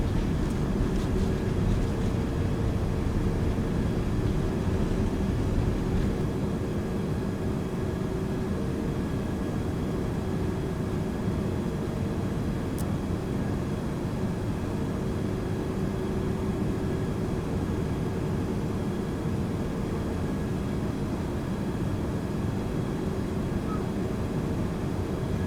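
Airplane taking off down the runway in Microsoft Flight Simulator X, a steady loud engine drone with a constant hum and tonal whine holding evenly throughout, no voices.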